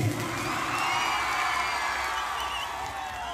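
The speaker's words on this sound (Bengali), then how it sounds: "এখানে উপস্থিত যারা আছেন সবাই মিলে একটা জোরে হাততালি শুনতে চাই আগে।" A crowd at Jeet's live performance in Mahishadal cheers and claps in a dense, continuous roar that fills the space and slowly tapers off.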